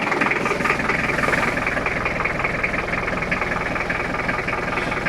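A parked car's engine idles with a steady, dense mechanical drone, its noise carrying through from under the bonnet around the radiator. The hum is loud and continuous with a faint rhythmic knock, and no one speaks.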